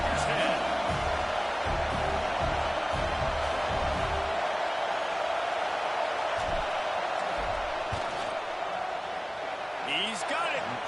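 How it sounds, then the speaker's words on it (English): Stadium crowd in the College Football 26 video game as a field goal unit lines up on fourth down, a steady loud roaring crowd with scattered shouts under a commentator's voice. "This crowd trying to do its part to get inside the kicker's head."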